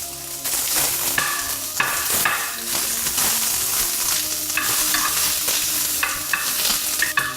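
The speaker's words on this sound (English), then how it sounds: "I've got some sliced onions that I'm going to add, and I'm going to saute that down." Sliced onions sauté in olive oil in a tagine, giving a steady, dense sizzle with repeated clinks and scrapes of stirring throughout, close and fairly loud.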